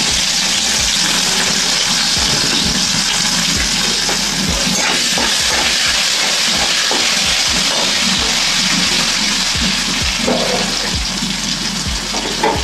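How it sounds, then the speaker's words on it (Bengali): Tomatoes and green chilies sizzle loudly in hot oil, a continuous hissing fry that holds steady throughout with no voices. "এবার আমি টমেটো আর কাঁচা লঙ্কা দিয়ে দিলাম।"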